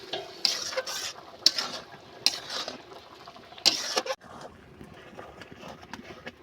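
Boiled masoor lentils with drumstick leaves are stir-fried in a pan, a low sizzle under repeated scraping and clanking of a spatula on metal, several bursts, close by, with no talking.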